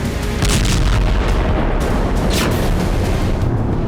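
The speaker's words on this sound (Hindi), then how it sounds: "रूस के राष्ट्रपति भवन की मुख्य गुंबद के बिल्कुल ऊपर ड्रोन से धमाका हुआ।" A drone blast over the Kremlin's main dome in Moscow: a loud booming explosion with a rumbling, crackling roar and sharp bursts layered on top, sustained for several seconds.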